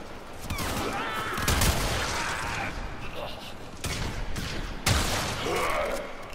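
Tigris shotgun blasts in Warframe, loud booming shots at irregular intervals with a sharp report near 1.6 and 4.9 seconds, layered over busy game effects and a voice talking throughout.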